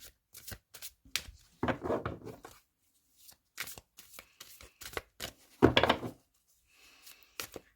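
Psychic tarot cards being shuffled and cut: brisk, close papery riffles and sharp taps in uneven bursts, with a longer flurry of shuffling early on and another near the end.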